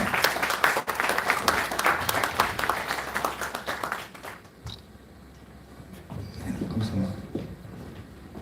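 An audience at Yeongdong High School's anniversary ceremony applauds a scholarship fund donation, a lively wave of clapping that carries for several seconds, then dies away as a voice takes over.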